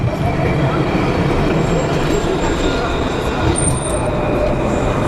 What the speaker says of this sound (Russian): Вот, кстати, трамвайчик скоростной.